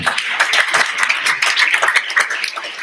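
An audience at a public schools community forum claps, a brisk continuous patter of many hands for a few seconds, fairly close and even in loudness.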